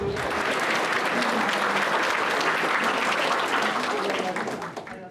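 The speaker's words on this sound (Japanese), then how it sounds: "じゃあ最後拍手で終わりましょうか。" Participants closing a workshop session on rubrics clap together in a full, steady round of applause that tapers off at the end, with a few voices faintly audible underneath.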